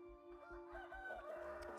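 A rooster crows once at an animal sanctuary, a fairly faint, drawn-out call heard at a distance over a low, regular background rumble.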